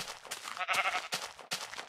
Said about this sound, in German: Oh, ein Schaf.